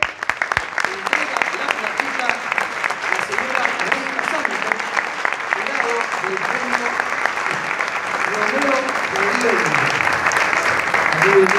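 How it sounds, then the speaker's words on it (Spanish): Sustained applause from a large carnival crowd at a murga awards ceremony, steady dense clapping with a few voices mixed in, continuous and fairly loud throughout. "El aplauso."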